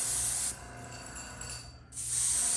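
Short hissing bursts from a handheld spray bottle, one spray at the start and another near the end with a quieter pause between, close by and fairly soft, with no voices.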